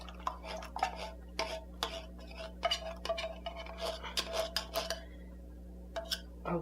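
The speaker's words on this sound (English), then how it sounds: "I'm just mixing here the leftover condensed milk inside" A spoon clinks and scrapes against a bowl while leftover condensed milk is mixed for a Portuguese-style flan, giving quick irregular taps close by over a low steady hum.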